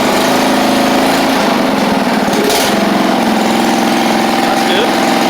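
A John Deere LX176 lawn tractor engine with a charging issue runs at a steady, loud idle, its droning hum continuous throughout, with a voice speaking briefly over it.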